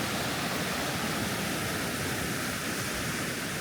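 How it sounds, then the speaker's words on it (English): Meltwater waterfalls from melting ice in the Swiss mountains pour in a steady, full roar of rushing water, broadband and unbroken throughout with no voices. "Look at all those waterfalls."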